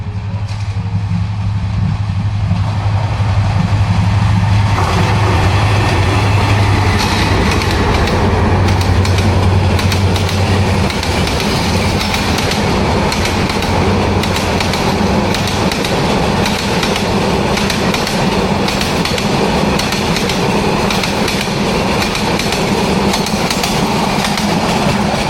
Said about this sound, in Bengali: দূরে ট্রেনের শব্দ শোনা যাচ্ছে, মনে হয় একটি ট্রেন আসছে।